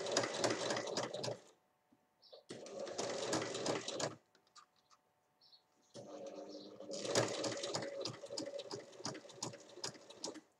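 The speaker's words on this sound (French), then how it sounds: "Je commence à piquer donc en bas, là où il faut joindre les deux morceaux." A sewing machine stitches together two pieces of beach towel fabric in three quick bursts of rapid, buzzing needle rhythm, separated by short pauses with faint handling sounds, fairly quiet and close.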